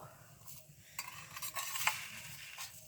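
Spices tipped into a pan of blackened cumin and stirred, giving a soft, low sizzle under scattered scrapes and light metallic clinks of a spoon against the pan, close by and fairly quiet, in a village kitchen.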